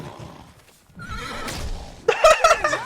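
A horse neighs in a movie scene: breathy snorting and shuffling at first, then a loud, shrill whinny bursts out near the end, close and clear.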